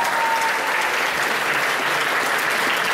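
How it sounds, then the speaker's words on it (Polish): An audience at a school event applauds a music group with loud, sustained clapping that fills the whole stretch without pause. "Jeszcze raz wielkie brawa dla tej fantastycznej grupy."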